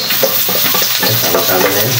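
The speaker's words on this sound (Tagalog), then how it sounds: "Igisa na natin ang ating bawang, luya at sibuyas." Garlic, ginger and onion sauté in hot oil in a pan for a stew of snails in coconut milk, crackling in a constant close sizzle broken by scraping stir strokes.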